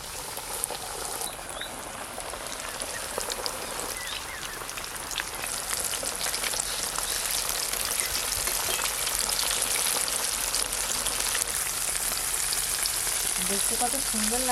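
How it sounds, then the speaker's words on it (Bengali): Chicken pieces deep-fry KFC-style in bubbling oil, making a dense, steady crackling sizzle that holds up close and loud the whole time. "এই দেখুন দেখতে কত সুন্দর হয়েছে, আর চিকেনের পিসগুলো এই দেখুন ছেড়েছে দারুণ। একই রকম ভাবে এইগুলো ভেজে নেব।"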